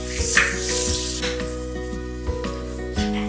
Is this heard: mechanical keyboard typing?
no